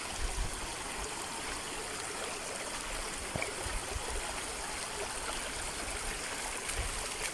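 A creek swollen after a typhoon rushes and gurgles in a steady, broad wash of flowing water, faint and continuous with no voices.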